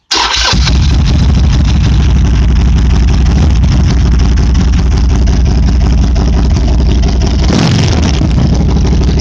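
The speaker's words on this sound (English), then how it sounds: "Nice fresh battery. It's going to crank like crazy and start right up." A Harley-Davidson Sportster motorcycle with a fresh battery cranks and fires at once, then runs at a loud, close, steady idle throughout, with a brief rev near the end.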